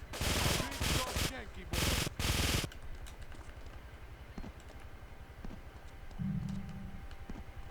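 Rapid bursts of automatic gunfire in GTA III, loud and rattling in the opening seconds, then quieter game noise with faint scattered pops.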